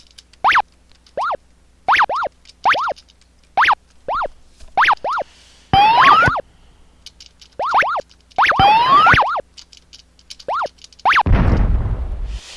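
Retro arcade shooter effects from Galaxian: a string of short bouncy chirps in steady rhythm, broken by buzzy sweeping bursts and ending in a noisy explosion.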